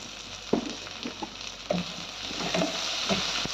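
Tomatoes frying with sautéed onions in a pan for a dry curry, a faint steady sizzle broken by a few soft stirring clicks and taps, close and without talk.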